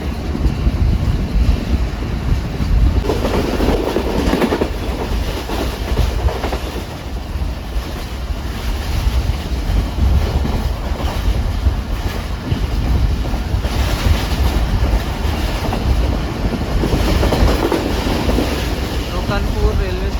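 The Pak Business Express passenger train runs on rails between Karachi and Lahore, heard from inside as a loud continuous rumble and clatter with wind roar and faint voices in the background.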